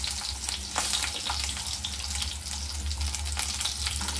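Garlic and asafoetida frying in hot oil, a steady, close sizzle and hiss that holds evenly throughout, over a low background hum.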